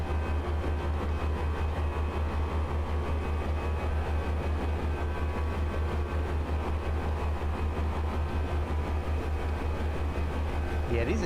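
Airbus A320 jet engines in the Flight Factor A320 Ultimate flight simulator hold a constant, loud low drone with a steady hum. The sound runs unchanged through the whole stretch and fills the cockpit.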